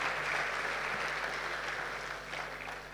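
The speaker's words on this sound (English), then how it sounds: "Clap again for him." Audience clapping at a mental health session during a student success week, a steady, moderately loud wash of hand claps that thins slightly toward the end.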